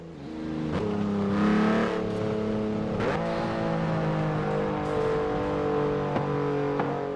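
A car engine in Forza Horizon 4 revs continuously with rising and falling harmonic tones, punctuated by a few sharp popping backfire cracks. It is steady and fairly loud, with no talk.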